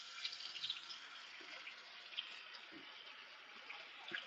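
Hot water runs from a tap into a cooking pot in a kitchen, a steady, hissing stream that continues without a break, with a few small splashy spikes.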